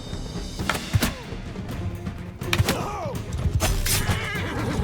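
A horse whinnies in the medieval battle game Mount and Blade 2: Bannerlord, two rising squeals sounding over a dense, busy mix of combat thuds and hoof noise that runs steadily throughout.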